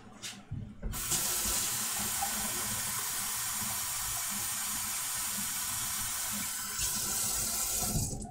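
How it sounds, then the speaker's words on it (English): Water runs steadily from a kitchen tap to fill a cup with a cup and a half of water, a loud and close constant hiss lasting several seconds with no talk. "do a cup and a half of water there"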